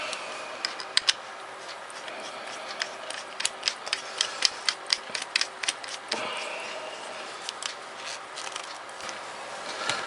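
A part of an E Pipe 629 e-cigarette being screwed back on: a run of small, quick, dry clicks and ticks, close and fairly quiet, coming in irregular bursts.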